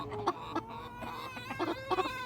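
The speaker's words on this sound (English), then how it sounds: "All the other chickens are mad." Agitated chickens in a coop cluck in quick, uneven bursts, close and fairly soft, with no talking.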